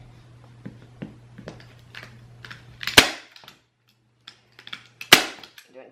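A staple gun fires into upholstery fabric on a kitchen chair: two sharp, loud clacks a couple of seconds apart, with quiet handling taps of the fabric and tool in between.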